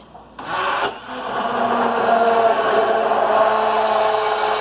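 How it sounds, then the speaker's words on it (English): An electric blender pureeing cooked mustard greens whirs up after a brief clatter, then runs steadily with a constant motor drone. "I'm going to use an electric blender"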